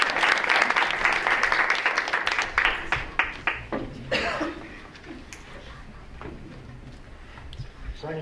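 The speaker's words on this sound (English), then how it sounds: "one more round of applause" An audience at a school board meeting claps loudly for a round of applause that gradually thins into scattered claps, with coughs, light chuckles and murmuring voices underneath.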